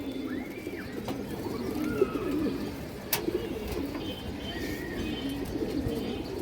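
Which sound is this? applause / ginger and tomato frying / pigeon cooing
pigeon cooing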